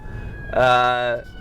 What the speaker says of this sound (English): Sorry for the siren in the background.